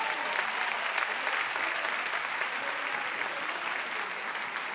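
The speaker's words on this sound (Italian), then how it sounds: "Io non ho sentito l'applauso per questi artisti pazzeschi" Audience applause for performers at the second evening of a festival's tenth edition, a steady dense clapping from a large crowd that keeps an even level throughout without pause.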